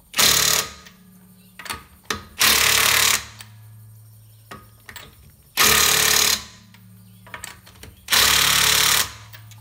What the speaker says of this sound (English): For the final tightening, and then I'll check it with the torque wrench